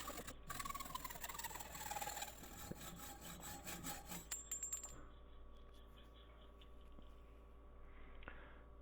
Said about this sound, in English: I just cut the steer tube with a hacksaw